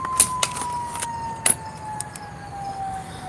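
A faint, distant siren holds a steady tone, with a few sharp clicks and rattles nearby.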